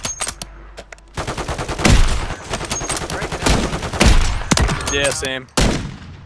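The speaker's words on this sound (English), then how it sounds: "Oh, I think that was the one that I was shooting repeatedly." Heavy gunfire in Call of Duty Warzone Resurgence, loud bursts of rapid automatic shots and single cracks crowding the clip, with a brief spoken reply among them.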